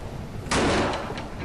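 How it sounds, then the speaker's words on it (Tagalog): A single heavy wooden bang as a chapel door slams against a wall in strong wind, followed by a brief rattling decay over low rumbling background noise. "Naririnig ng mag-asawang Pepe at Gunding ang pinto ng kapilya na humahampas sa dingding"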